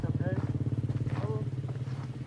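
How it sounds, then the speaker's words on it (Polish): A Honda CBR 125 motorcycle engine runs with a steady, rumbling idle pulse close by, while a person talks over it. "No o swoim motorze Hondzie. CBR."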